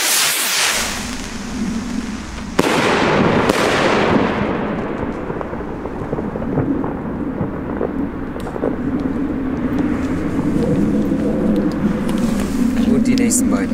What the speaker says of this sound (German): Wir haben jetzt hier Kugel Shell Rockets